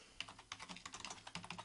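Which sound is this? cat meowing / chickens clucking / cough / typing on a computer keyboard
typing on a computer keyboard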